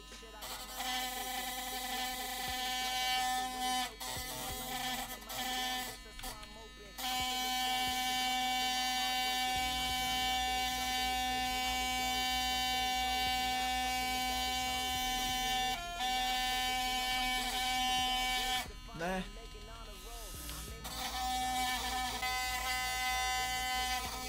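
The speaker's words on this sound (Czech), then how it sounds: "musím actually držet ten kartáček tak, aby vůbec klikal" Electric toothbrush used to click a computer mouse while playing Minecraft, giving a steady high-pitched buzz that runs almost continuously with a few brief breaks.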